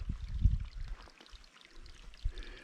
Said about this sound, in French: Alors, le petit ruisseau.